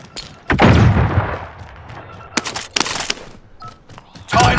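A flashbang grenade in Call of Duty going off with a sharp loud bang and a ringing decay, followed by several more bursts of gunfire-like cracks and thumps in the middle of the match.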